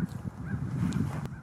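A goose-like bird honks in a few short, moderately loud calls outdoors near a Cub Cadet GT2544 garden tractor, over a low rumbling background.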